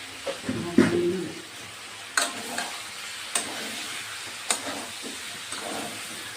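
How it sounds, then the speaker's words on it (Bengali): Potatoes and shakoch fish (ray fish) stir-fried in a pan with bay leaves and spices: a soft steady sizzle with repeated scraping and clanking stirs at irregular intervals, close and moderately loud, no talking. "আর এখন আমি আলু আর সাকস মাছগুলোও দিয়ে দেবো এখন। দিয়ে এটাকে ভালোভাবে এখন কষাবো।"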